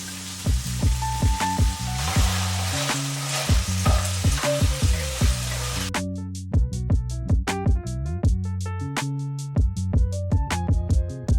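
Tofu frying in a pan with store-bought Kung Pao sauce sizzles and is stirred for about six seconds, steady and fairly loud beneath prominent plucked background music, which then carries on alone.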